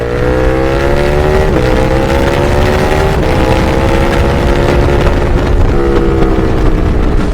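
Suzuki Gen 3 Hayabusa motorcycle on a race track, running on Pirelli Diablo Superbike SC2 slick tires, its engine droning loudly and steadily with repeated pitch climbs and brief drops as gears change, close and continuous with no talk.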